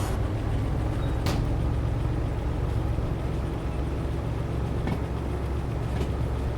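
Steady low rumble of a train running in Derail Valley, a continuous engine and rail drone with a couple of brief clanks, fairly loud and unbroken.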